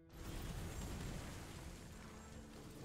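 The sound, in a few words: chaotic explosion spell in video game Soulstone Survivors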